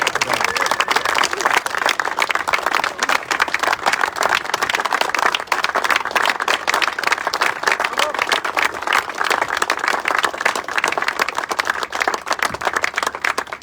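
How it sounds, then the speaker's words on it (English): Steady applause from a seated crowd at a naval captain's retirement ceremony, dense clapping that holds at full strength for the whole stretch without breaks. "One more round of applause."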